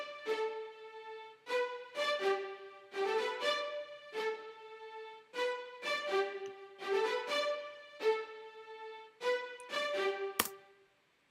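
Live orchestral strings from the Iconica library in Halion Sonic play rich sustained chords in short rhythmic phrases, steady and full, with no voices over them.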